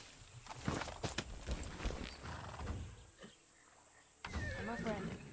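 A horse in the Far Cry 6 video game whinnies and clops along a trail, with scattered hoof steps and a neigh near the end, mixed with people talking.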